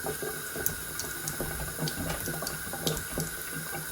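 Water runs steadily from a tap over small filter washers for a Berkey water filter as they are rinsed clean of dish soap, with a continuous splashing hiss and faint clinks of handling close by.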